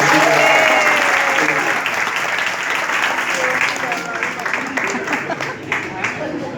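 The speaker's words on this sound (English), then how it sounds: "Give her a big clap." A church congregation breaks into sustained applause, a dense wash of many hands clapping that fills the room and slowly thins out toward the end.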